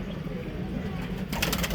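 Low soft cooing of Punjabi flying pigeons under a busy background hum, with a brief burst of fluttering or rustling near the end.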